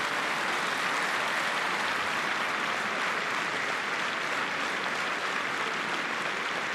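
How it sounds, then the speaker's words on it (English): The French crowd at a women's Six Nations rugby match between France and Scotland applauds warmly, a dense, steady roar of clapping from a large stadium that holds constant throughout. "Warm applause from the French crowd"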